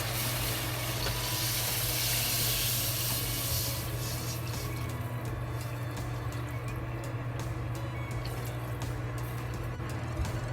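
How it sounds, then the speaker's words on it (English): Cold tap water poured into a cooking pot for a tomato, potato, onion and pork soup, a steady close rushing and splashing stream that runs for the whole stretch and eases slightly partway through, alone with no talk. "they add 6 cups of cold tap water."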